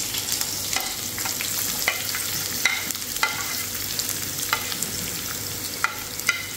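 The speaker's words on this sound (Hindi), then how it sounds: "अब प्याज है थोड़ा फ्राई कर रहा हूँ" Onions fry in oil in a pan, giving a steady close sizzle with occasional sharper crackles and stirring clicks scattered throughout.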